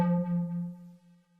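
A retro synth patch built in Serum with a 1/8 delay at about 25 percent mix, a single sustained buzzy tone that holds steady then fades in repeating echoes, clean and alone.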